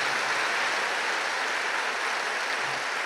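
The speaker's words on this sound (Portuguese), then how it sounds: "Aplaude então se você acredita nisso." Congregation at a Catholic church service applauding, a steady wash of many hands clapping together that holds evenly throughout, with no talk over it.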